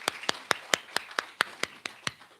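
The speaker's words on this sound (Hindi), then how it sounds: "सब ताली बजा लिए अपने लिए।" A small group claps in quick, even rhythm, about ten sharp distinct claps in close succession at a festive Christmas gathering, with no talking over them.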